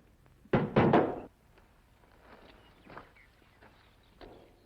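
Guns dropped onto the ground in a Western radio drama: two heavy, close clattering thuds land in quick succession, followed by quieter scattered shuffles and knocks.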